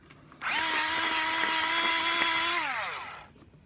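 A sharpener works on a makeup lip liner pencil with a close, steady mechanical whine that starts suddenly, holds for about two seconds, then winds down and fades. No one speaks.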